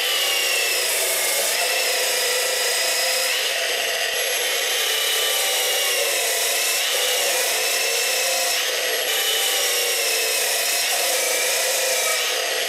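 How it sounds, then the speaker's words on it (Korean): A cordless rebar cutter running at full speed slices through thick 300-square electrical cable, giving a loud, harsh, continuous grinding hiss with slight surges in strain. "이렇게 300스퀘어 케이블을 두 개를 연속으로 잘라도 충분히 자르고 남는 스펙이고요"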